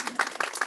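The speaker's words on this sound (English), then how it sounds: "So let's all give her a nice big round of applause." Mourners at a celebration-of-life memorial service clap briefly, a few distinct hand claps standing out from scattered, fairly faint applause.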